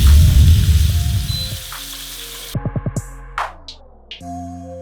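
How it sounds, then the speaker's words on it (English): A giant tomahawk steak sears in a very hot skillet, giving a loud, steady, close sizzle for a couple of seconds before it cuts to bright musical tones and effects. "we have this nice and hot skillet here. We have our mammoth of a steak, and we're just gonna sear this bad boy"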